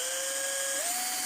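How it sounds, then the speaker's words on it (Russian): A power drill bores into a soft plastic bucket held steady underfoot, a thin steady whine that rises slightly in pitch midway through the short burst, heard alone. "Вот так придерживаю одной ногой и начинаю сверлить уверенно."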